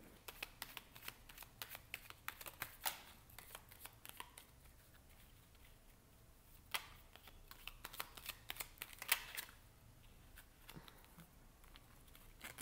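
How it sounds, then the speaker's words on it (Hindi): Tarot cards being shuffled by hand, a quick series of soft riffling flicks and taps in irregular bursts, quiet and close, with no talking. "अब मुझे कुछ कार्ड्स लेने हैं ये देखने के लिए कि आपके पर्सन के दिमाग में क्या चल रहा है"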